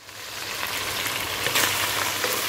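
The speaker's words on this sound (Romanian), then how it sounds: "acum așteptăm să călească, să prăjească un pic cărnița" Pieces of veal sizzle and fry in a pan for goulash, a steady, moderately quiet crackling hiss that swells slightly midway, with no voices.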